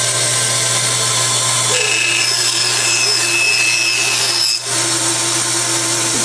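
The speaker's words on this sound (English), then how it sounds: "I'm not going to trim very close to the back because the bandsaw is going down that way" A bandsaw cuts through wood with a steady motor hum and a bright, continuous cutting whine, its tone shifting as the blade works the piece before a short pause near the end.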